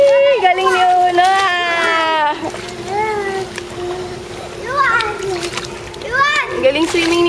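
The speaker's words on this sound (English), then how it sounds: "Galing swimming ni Uno" A two-year-old child swimming, with splashes of water close by and a child's excited vocalizing and an adult's cheering voices over them throughout.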